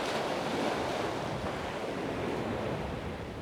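A calm sea washes steadily against the shore in a continuous soft roar, with some wind buffeting the microphone.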